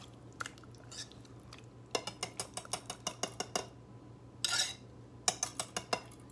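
A whisk clinks and scrapes against a bowl while German chocolate cake icing with vanilla and coconut is stirred, a run of quick, regular close taps with brief pauses between bursts.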